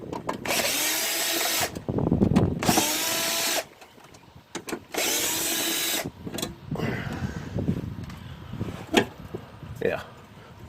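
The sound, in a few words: power tool removing 7mm screws from headlight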